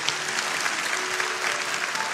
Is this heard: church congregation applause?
yes